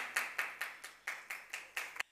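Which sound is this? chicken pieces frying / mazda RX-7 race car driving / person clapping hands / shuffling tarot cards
person clapping hands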